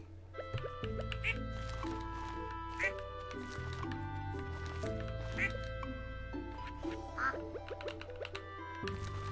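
Several quacks from a farm duck in Stardew Valley pop out at intervals above a busy layer of game music, with a person talking over parts of it.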